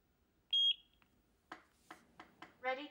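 A single sharp, high-pitched electronic beep from a EufyCam 3 Solar wireless camera sync button rings out clearly, followed after a pause by a voice speaking.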